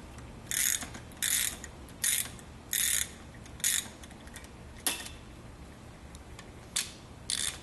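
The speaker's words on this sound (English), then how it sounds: "The first step is to remove all the bolts." Bolts being removed from a rupture pin mud relief valve: a series of sharp metallic ratcheting bursts, about eight in a row, each short and close, separated by brief pauses over a quiet background.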